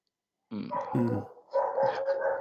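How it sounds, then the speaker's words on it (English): A street dog barks nearby in two throaty, growling bursts that are loud and close, with no talk over them. "This guy have a dog. In the street."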